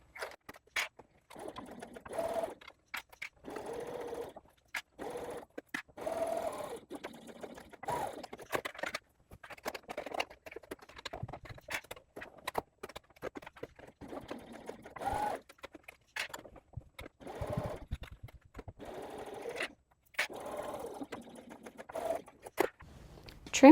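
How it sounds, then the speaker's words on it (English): A sewing machine stitches a paper pouch exterior in quick bursts of rapid mechanical clatter separated by short pauses, close and fairly loud throughout. "And then sewing the exterior."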